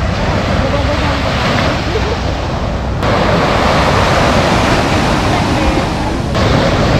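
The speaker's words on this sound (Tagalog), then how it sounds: "Saktong-sakto lang yung timing namin kasi sobrang lakas ng alon." Strong ocean waves at Anawangin Cove in Zambales crash and wash continuously, a loud, dense roar of surf mixed with gusting wind noise on the microphone throughout.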